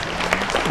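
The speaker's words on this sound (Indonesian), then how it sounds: "kita beri tepuk tangan sekali lagi" A short patch of audience clapping at a community empowerment event in Pekalongan, Indonesia, a brief uneven ripple of hands that sounds moderately loud.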